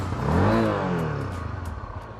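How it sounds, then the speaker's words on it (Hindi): Honda CB300F motorcycle exhaust, a smooth, low engine rumble that swells in a brief rev and then settles to a steady idle, close and fairly loud. "मैंने स्टार्ट किया, ये इसका एग्जॉस्ट नॉट है, साउंड है, काफ़ी स्मूथ है"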